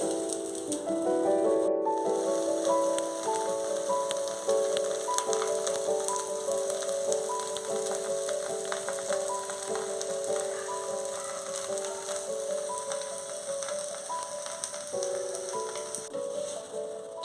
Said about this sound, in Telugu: మీడియం హీట్లోనే ఈ దోశను మనం కాల్చుకోవాలి.